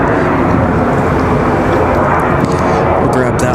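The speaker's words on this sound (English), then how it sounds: "As PSA touches down from DC" A PSA Airlines jet arriving from DC touches down at Raleigh-Durham International Airport, a steady, loud broadband roar of engine and rushing air filling the whole stretch without a break.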